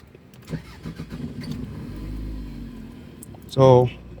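A 2001-2003 Toyota Previa engine cranks and catches near the end, a short loud burst after a stretch of low rumble and faint background voices.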